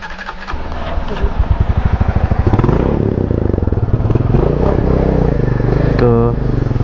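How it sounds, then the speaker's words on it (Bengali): Motorcycle engine idling after a cold start on Coconut Island, Tripura, loud and close, with a rough rhythmic thump and clatter, a brief scrape near the start and a short rising whine near the end. "বাইক হয়েছে কোল্ড স্টার্ট"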